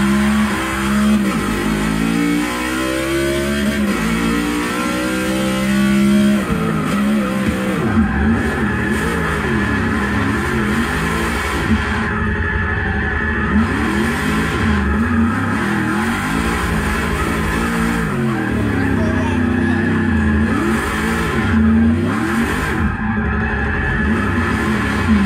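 A 2016 Chevrolet Camaro drifts in the Forza Motorsport 6 racing game, its engine loudly revving and falling in repeated sweeping pitch swings as it slides through a corner, with no talk.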